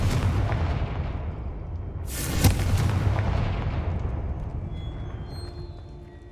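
Fire spell explosions from the Hogwarts Legacy video game, a continuous roaring blast with one sharp bang in the middle, loud and close, fading slowly into a rumbling tail.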